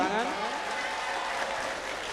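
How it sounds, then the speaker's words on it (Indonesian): A crowd at a market inauguration ceremony in Indonesia claps briefly and steadily, the applause blended with a voice and some tonal sound in the hall. "Sekali lagi tepuk tangan."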